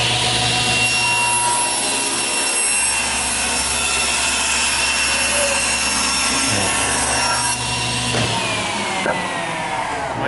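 Table saw ripping a narrow strip off a jointed board for a book-matched top, a steady loud whine of the blade through wood that drops in pitch twice near the end as the cut finishes.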